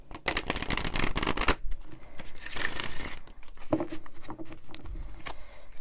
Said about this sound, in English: this cardstock is so good to shuffle as well